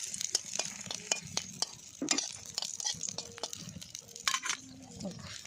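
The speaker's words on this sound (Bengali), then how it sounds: "কড়াইতে তেল গরম হয়ে গেছে, শুকনো লঙ্কা দিয়ে দিলাম" Dry red chillies fry in hot oil with a crackling sizzle, sharp scattered pops and spatters at moderate volume, quiet speech faintly underneath.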